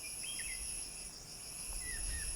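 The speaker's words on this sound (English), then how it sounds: "All these crickets here have come out after the rain." A steady, high-pitched chirring of crickets after rain drones continuously against a quiet background, with a couple of faint bird-like chirps.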